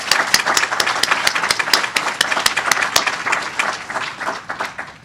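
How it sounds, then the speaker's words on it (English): Audience at an employee ownership forum applauds event staff, a steady wash of many hands clapping close by with sharp individual claps standing out, sustained for about five seconds without talk. "So if we could give them all a round of applause."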